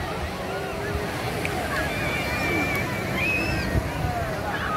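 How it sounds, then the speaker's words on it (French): Steady surf and rolling big Atlantic Ocean waves wash continuously on a Moroccan beach, mixed with wind noise, fairly loud and close throughout. "Des grosses vagues."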